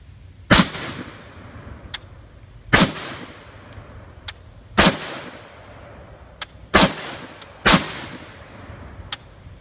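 A Franklin Armory BFS3 rifle fires steel-cased 7.62x39 Russian ammunition on semi-automatic, giving five sharp, loud, evenly spaced reports with short decays and no talk between them.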